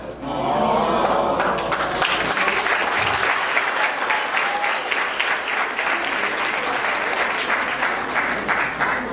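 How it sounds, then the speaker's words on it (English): Sustained applause from an audience at a graduation celebration, dense and steady clapping that holds loud for the full stretch without a break. "That wasn't the time for you to clap, but okay."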